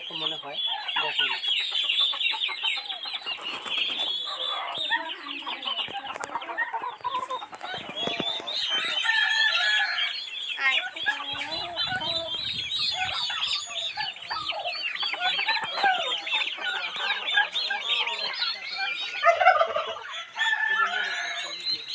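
Black Cochin chickens, a rooster and a hen, clucking and calling in a busy poultry setting with many overlapping birds, continuous chatter close by, while someone talks over it.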